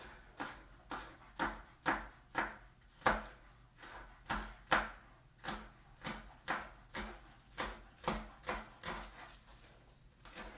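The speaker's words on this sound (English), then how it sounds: "Now I'm going to add in that green onion, and I'm just going to chop it up into small pieces" A knife chops green onion on a cutting board in a steady run of about twenty crisp, close knocks, evenly paced and alone without talk.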